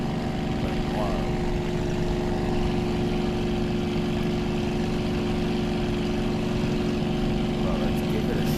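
A steady airplane engine drone from the World Flight VR flight simulator played on a Meta Quest 3 hums evenly and continuously at moderate loudness, with no talk over it.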